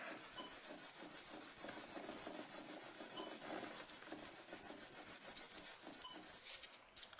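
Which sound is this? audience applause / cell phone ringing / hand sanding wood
hand sanding wood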